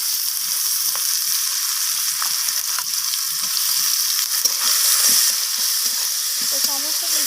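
Onions, dry red chili and curry leaves fry in hot oil as they are stirred, a loud continuous hiss with scattered scraping and clinking of the spoon.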